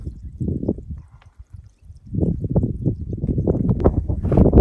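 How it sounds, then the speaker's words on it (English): Water running from a spigot at a big tank along a desert trail, a rough gurgling pour that starts faint, drops out briefly, then returns louder and steady, mixed with some wind buffeting the microphone. "I hear water running."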